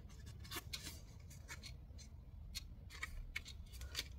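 A paper card for a pop-up photo album page is folded down the middle, giving faint, close crinkles and small sharp ticks scattered over a quiet background with no voices.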